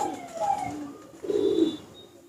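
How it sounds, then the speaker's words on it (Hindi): Rampuri Chandakhani breed pigeons cooing on a rooftop, two soft, low throaty coos close by, with faint background noise between them. "चंदा खानी नस्ल में से कबूतर है ये"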